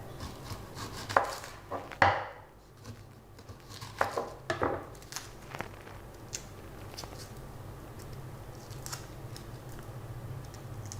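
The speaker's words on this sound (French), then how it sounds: "Faut couper en gros morceaux." A knife cuts onion into large pieces on a board for a yam stew with fine herbs. Several sharp chops and crisp crunches come close by and irregularly spaced, then fade to a faint background.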